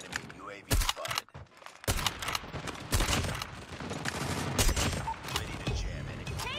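Dense gunfire from a Call of Duty sniper multiplayer match crackles in close, loud bursts and rapid volleys almost without pause, with a voice speaking under the shooting.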